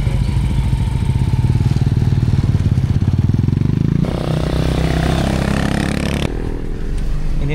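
Motorcycle engine climbing a steep mountain road, a steady loud close drone with a gear or throttle change partway through and continuous rumble throughout.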